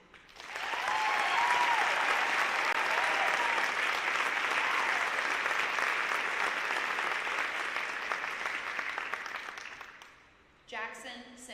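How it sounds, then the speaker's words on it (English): An audience at a senior honor night breaks into sustained applause for about ten seconds, loud and even, before fading out as a voice begins speaking. "I think each of these 3 students deserves their own individual applause this evening."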